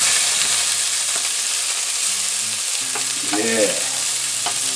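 Tuna medallions crackle and sizzle in a hot pan just after being turned, a steady frying hiss with a few soft scraping knocks, close and fairly loud, with a brief spoken word.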